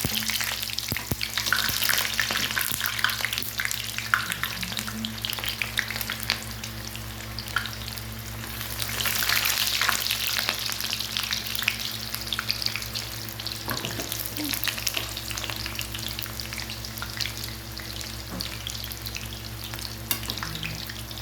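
Eggplant frying in hot oil for binagoongang talong gives a steady, close, full sizzle that holds for about twenty seconds. It swells briefly midway, scattered small pops and clicks cut through, and no one speaks.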